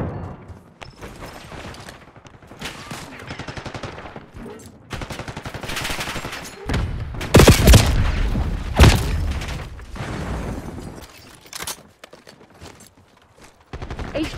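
Gunfire in the game Black Ops 6 during a fight over an HVT, with bursts of shots and heavy booms running through the battle, loudest near the middle and easing off toward the end.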